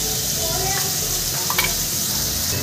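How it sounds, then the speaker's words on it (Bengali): Diced potatoes fry in hot oil with turmeric and salt, a steady close hiss and crackle throughout with a few soft stirring knocks against the pan. "তেল গরম হয়ে গেছে, এবার আমি আলুটাও ভেজে নেব।"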